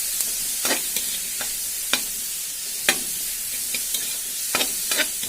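Mixed vegetables with garam masala and red chilli fry in a pan for poha, giving a steady hiss and sizzle broken by several sharp spatula clicks and scrapes against the pan, close and without any speech.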